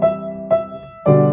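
Piano block chords played in inversions, three sustained chords struck one after another at a steady pace, each ringing full and close with no talking.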